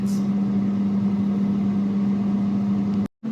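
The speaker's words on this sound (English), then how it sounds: "you'll have to excuse the noise of the fan as we attempt to do this from the air fryer" Air fryer fan running steadily while potatoes cook inside, a continuous close, loud motor hum with a strong low drone and broadband whoosh, cutting out briefly near the end before resuming.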